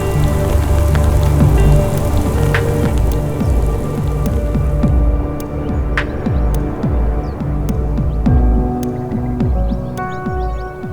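A heavy rain downpour during valley flooding: a dense, steady patter of drops on surfaces with scattered sharper drips and splashes, continuous and close throughout.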